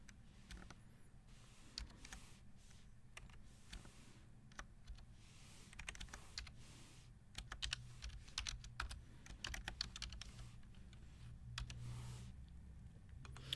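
Quiet, steady clicking of computer keyboard keys as a name is typed into a form, with irregular bursts of keystrokes and no talking.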